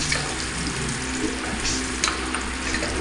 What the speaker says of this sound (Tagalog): nilagay na natin yung mantika natin. Isunod na rin natin dyan yung bawang.